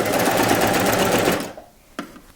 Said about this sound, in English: now I'm just going to continue stitching all the way to the side seam, stitching the bodice onto the skirt